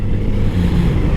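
Kawasaki Z900RS motorcycle engine running while riding, a steady loud low rumble with continuous drone and no speech.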